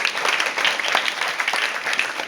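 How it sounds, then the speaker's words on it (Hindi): An audience breaks into a short burst of clapping after someone correctly names Sunita Williams during a quiz-style talk. It is steady, dense, mid-level applause lasting a couple of seconds with no speech over it. "ताली बजाओ इनके लिए।"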